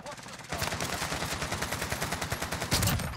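Rapid automatic gunfire from the Warzone video game rattles in a fast, even burst lasting a few seconds, loud and close, ending with a heavier blast or impact.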